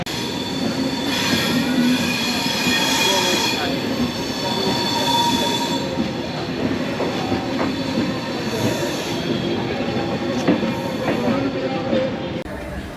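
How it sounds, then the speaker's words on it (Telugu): A passenger train pulls out of Gaya station in Bihar, with wheels squealing and rumbling along the rails and cars clattering past at close range, steady and loud throughout. "ఈ ట్రైన్లోనే మనం వచ్చింది, బయలుదేరిపోయింది"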